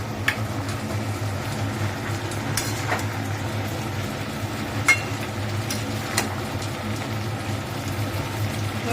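Pumpkin being stirred in a pan as it cooks down for a Bengali pumpkin and shrimp dish, a low steady sizzle and rumble with sporadic scrapes and taps of the spoon, nobody talking.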